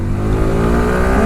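A superbike accelerates hard with its engine revving upward, loud and close, the rising engine note climbing steadily over a brief burst.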